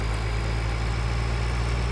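Tractor engine in Farming Simulator 2013, a steady low droning rumble that holds at constant loudness with no break throughout.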